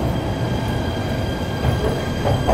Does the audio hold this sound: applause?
no